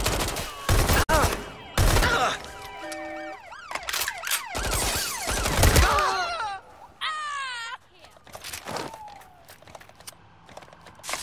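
Rapid bursts of gunfire in Watch Dogs: Legion, loud sharp cracks clustered in the opening seconds, mixed with wailing police sirens, game voices and other action noise throughout.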